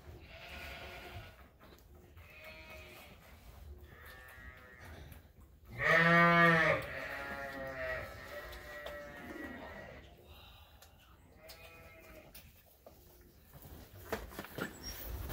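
Sheep and lambs bleat in a barn on a working sheep farm, one loud close bleat standing out midway among scattered fainter calls from the flock, with low barn noise throughout.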